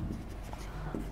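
A hand writes steadily across a board during a chemistry lesson, giving a soft, continuous scratchy stroke sound at close range, with no speech over it.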